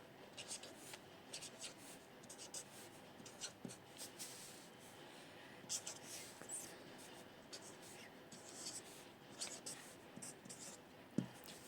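A marker or pen writes Korean numbers on a board, giving faint, soft scratchy strokes in irregular short bursts, quiet and close, with light rubbing between strokes.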